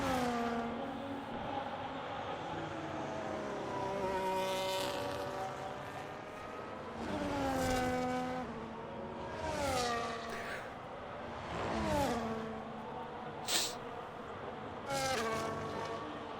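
F1 car engines in F1 25 racing game at Australia on a flying lap, a high-revving whine that climbs and dips repeatedly through upshifts and braking, steady and loud with no talk.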